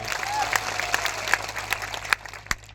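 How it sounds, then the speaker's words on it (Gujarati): A crowd at a public rally claps for police officers, dense close applause with sharper individual claps standing out, tapering toward the end. "અહીં ઉપસ્થિત થયેલા તમામ પોલીસ અધિકારીઓ માટે પણ જોરદાર તાળીઓ પાડી લઈએ।"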